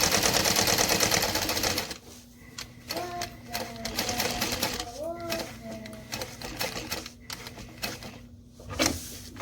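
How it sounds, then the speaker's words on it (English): A sewing machine runs top stitching at 1/8 inch on fabric, its rapid mechanical chatter going in short bursts that start and stop, heard close, with a person talking over parts of it. "I use 1/8 of an inch for my top stitching."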